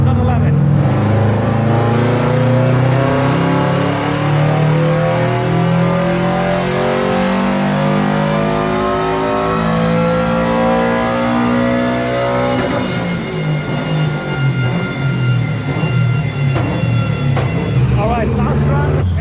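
A turbocharged stock Subaru engine in a tuner car runs hard on a power run with raised boost, a loud sustained engine roar with shifting pitch and a change in tone partway through, with some voices underneath.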